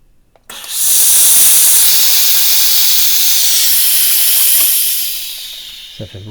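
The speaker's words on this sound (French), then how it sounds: "Ça fait beaucoup de vapeur, hein." A Salamandres Blackstorm SP06 garment steamer, set to minimum, hisses steam loudly and steadily for about four seconds, starting abruptly and fading out, with a small click at the end.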